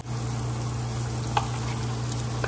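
Coriander and cumin powder sizzling and frying in a pan as it is stirred, a steady close hiss with a faint scrape of the spoon.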